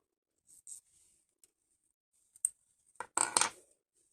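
Scissors snip through the end of a crocheted cord: a few faint, scattered clicks early on, then a sharper cut and a louder cluster of snips near the end, with no talking.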